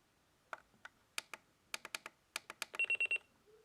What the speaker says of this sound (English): So there's your buzzer.